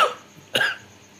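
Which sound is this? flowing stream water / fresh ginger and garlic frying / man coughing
man coughing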